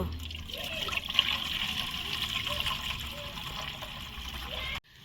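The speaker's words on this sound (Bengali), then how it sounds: "আমি এখানে গরম পানি দেব।" Hot water poured into a bowl for making oil pitha batter, a steady watery trickle running close by for nearly five seconds before stopping abruptly.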